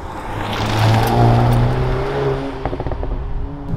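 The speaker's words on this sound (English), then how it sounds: "has a 2-liter 4-cylinder turbocharged petrol engine at the front that can produce 320 horsepower" A VW Golf R's 2-liter turbocharged four-cylinder petrol engine, rated at 320 horsepower and paired with a 7-speed DSG, revs up and then falls back in a steady close-up drone, ending in a crackling, stuttering idle.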